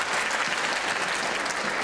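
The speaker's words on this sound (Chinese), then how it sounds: "让我们以热烈的掌声有请新郎的母亲涂香香女士为大家致辞" Wedding guests give warm, even applause, a steady wash of many hands clapping at moderate distance and fairly soft level, continuing without a break and with no talk over it.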